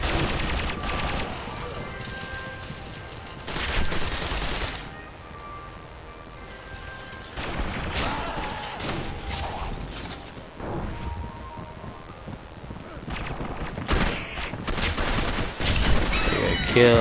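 Shotgun blasts in the team-deathmatch shooter Gotham City Impostors on the Amusement Mile map, loud bursts scattered among steady battle noise, with a player talking over parts of it.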